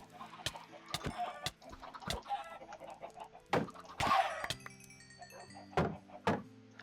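Chickens cluck in a Minecraft game, scattered short clucks mixed with sharp clicks and thuds at a low level.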